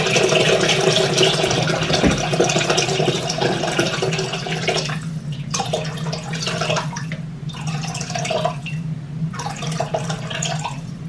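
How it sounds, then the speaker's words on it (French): One litre of water pouring into a cooking pot, a steady loud gushing stream that breaks into several interrupted pours toward the end, close and without speech. "Et maintenant on met 1 litre d'eau."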